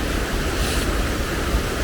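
Steady rushing river water on an autumn walk in Calder Vale, Lancashire, a continuous broadband flow filling the whole stretch at constant loudness, close by and alone with no voices.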